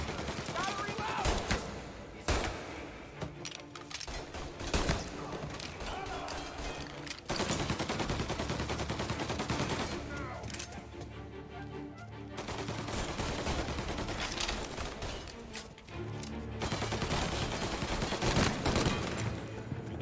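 Dense gunfire from a Mafia: Definitive Edition shootout, with rapid bursts and heavy volleys roaring almost nonstop for the whole stretch, loud and close, with brief lulls between the barrages.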